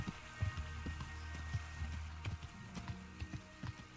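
Hooves of a horse clip-clop steadily in Kingdom Come: Deliverance, a faint irregular series of soft thuds over a quiet background hum.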